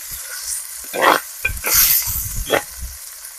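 Onions and spices sizzle in a hot pan as a spoon scrapes and stirs in several short bursts, close and fairly loud.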